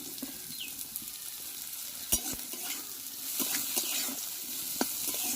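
Chopped ginger, garlic, onion and green chili fry together in a little oil in a kadai, a quiet continuous sizzle with occasional sharp clicks and taps of a spatula stirring against the pan.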